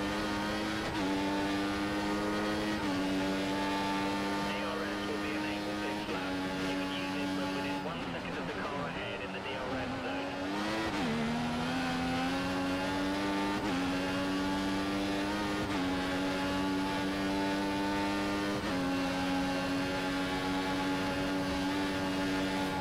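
Formula 1 car with a Mercedes engine racing at Austria in F1 2014 on PC, a steady high-pitched engine whine running throughout with gear-shift pitch changes, loud and continuous, with a voice talking over it.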